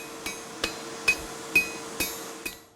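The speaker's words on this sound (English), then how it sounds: "You hear the anvil, because the anvil got a lot of different songs." A Lowcountry blacksmith strikes an anvil with a hammer, six sharp ringing clinks at an even, unhurried pace, each with a short metallic decay, close by in a quiet shop.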